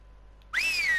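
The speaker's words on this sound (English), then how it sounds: "Now purse those lips and whistle." A zombie in Stubbs the Zombie video game lets out a single clear whistle that breaks the near silence, rising sharply and then gliding slowly downward as it holds for about half a second.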